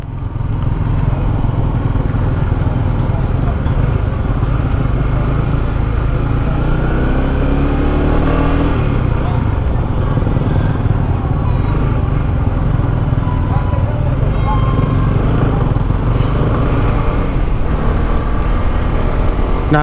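Engine of a 2022 Honda CB150X motorcycle on a test ride over climbs, descents and bends, a steady near drone with wind rush running unbroken throughout.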